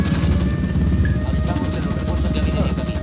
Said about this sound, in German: Auf den Boden, Hubschrauber.